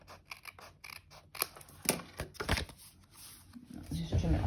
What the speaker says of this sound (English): Just trim it on my big trimmer.